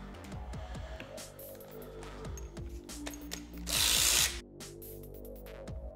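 Power tool or ratchet spinning out the 12 mm sump bolts on a Kohler/Kawasaki mower engine during a teardown, with repeated short whirring bursts and clicks up close plus one louder, longer buzz near the middle.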